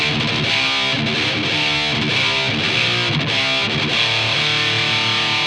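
Distorted electric guitar played through a Friedman amp, a loud run of chugging chords and sustained notes with short choppy gaps, no talking over it.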